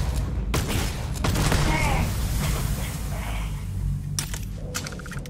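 Rapid volleys of gunfire in the sci-fi video game Starfield, a steady stream of loud shots with a few heavier booms. The firing plays under a voice talking across most of the stretch.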